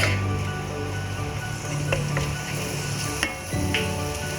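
Garlic sizzles in a hot pan, a loud steady frying hiss with a couple of utensil scrapes and clicks and a low hum underneath, with no voices.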